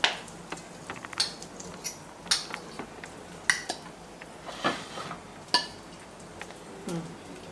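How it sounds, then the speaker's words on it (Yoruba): Spoon scraping and clinking against a pan as fried plantain is scooped into eggs, a series of sharp metallic taps and scrapes at an irregular pace, close and fairly quiet with no talking. "Ní báyìí mo máa bu dòdò sí inú ẹyin mi pẹ̀lú ṣíbí amúga."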